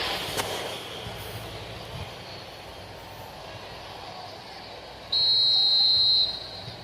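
A referee's whistle for offside in an eFootball match sounds as one sustained, shrill blast of about a second, standing out above a low hum of crowd and game noise.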